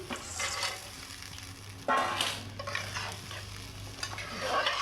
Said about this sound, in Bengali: তো আমি সয়া চাপটা ঢেলে দিচ্ছি